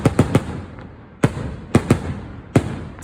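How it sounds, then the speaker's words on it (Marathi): Firecrackers burst at a village fair during a tamasha show, a quick triple crack, then scattered single and double bangs at moderate distance, each trailing into a rumbling echo. "फटाक्याचा आवाज सुद्धा घरी येत होता."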